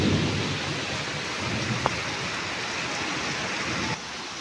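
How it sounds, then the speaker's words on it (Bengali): Torrential rain pours down beside a balcony, a loud, continuous roaring wash of drops with a brief sharp crack partway through and the downpour easing slightly near the end. "আমাদের এখানে কি মুষলধারে বৃষ্টি হচ্ছে"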